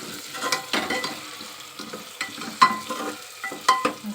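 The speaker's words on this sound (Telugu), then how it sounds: "ఇప్పుడు ముందుగా మ్యాగ్నేట్ చేసి పెట్టుకున్న మటన్ వేసుకుందామండి" Marinated mutton being stirred into a frying masala in a pan for a spicy gravy curry, with a soft continuous sizzle under repeated scraping and stirring strokes, close and moderately quiet, no talking.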